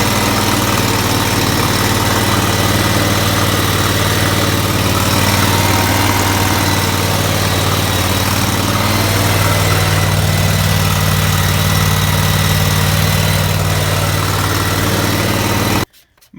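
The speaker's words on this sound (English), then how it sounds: "motor running" An Exmark Lazer Z mower engine idles loudly and steadily just after start-up, with a constant low droning rumble and vibration that cuts off abruptly at the very end.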